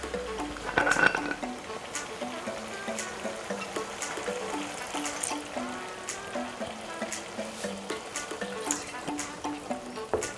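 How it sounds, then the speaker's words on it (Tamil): A small amount of water is poured into a pan of okra masala on the stove, a short splashing burst near the start followed by quiet sizzling and trickling under soft background music. "இப்போ இதில் கொஞ்சமாக தண்ணி ஆட் பண்ணிக்கோங்க."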